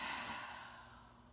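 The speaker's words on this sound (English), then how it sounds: "Then breathing out." A single slow, deep exhale during a guided breathing exercise, a soft breathy hiss close to the mic that fades gradually over about a second, with no talking.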